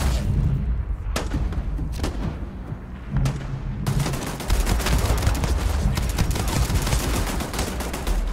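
A turret fires at the player in Starfield: sharp shots ring out at first, then give way to a sustained, loud barrage of rapid fire that rattles steadily until the end.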